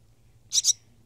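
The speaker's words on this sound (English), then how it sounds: "the reason he's chirping like this is because he's hungry" A hungry baby barn swallow gives a sharp double chirp, two quick high calls close together, loud and near against an otherwise quiet background.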